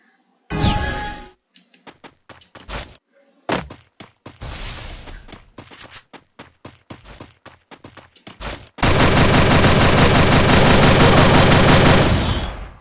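Gunfire from a Groza rifle in the game Free Fire: scattered single shots and short bursts give way to a long, loud sustained volley of rapid automatic fire.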